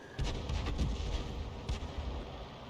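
Deep booms and rumbling thuds of artillery fire in the tank battle game World of Tanks, several heavy low impacts spread across a few seconds, moderately loud with no voices over them.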